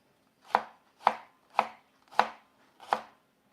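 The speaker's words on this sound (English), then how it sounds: "Let's try chopping this all in once." A kitchen knife in need of sharpening chops vegetables for cottage pie: five crisp, evenly spaced chops land on a board about every half second, close and clear, with no talking.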